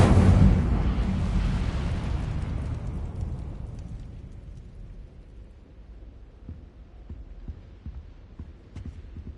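In Hogwarts Legacy, an Incendio fire spell goes off as a loud, deep whooshing blast. It then fades into a long, low rumbling decay, and faint ticks and crackles trail after it.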